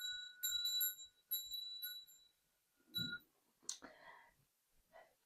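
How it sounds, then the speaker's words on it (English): A small bell rung to open a tarot card reading, several bright metallic rings in quick succession, close and clear in a quiet room, followed by a soft thud and faint clicks. "I'm going to ring the bell and we are going to get into the reading"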